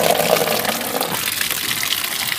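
Running water pours and splashes steadily as rohu fish is rinsed and washed clean by hand, a close, continuous gushing flow with no talking.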